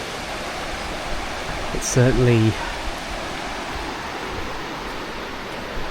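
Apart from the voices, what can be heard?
river Rivelin flowing, fuller in autumn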